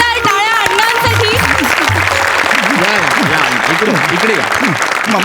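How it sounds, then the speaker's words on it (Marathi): Loud, sustained audience applause at a Marathi comedy stage show fills the whole stretch, a dense continuous clatter of clapping with a few voices and musical tones mixed in underneath. "जोरदार टाळ्या अण्णांसाठी."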